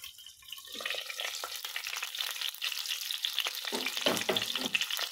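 Stuffed green chilies frying in a pan after being covered, a close, crackling sizzle that builds and grows busier, with spattering pops toward the end.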